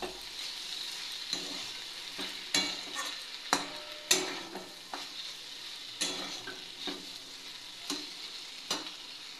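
Ridge gourd and potato stir-frying in a pan: a constant bright sizzle of oil with repeated scraping stirs and spatula clicks every second or so, close and clear with no talk.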